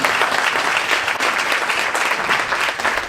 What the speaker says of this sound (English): Let's give all our panelists a big round of applause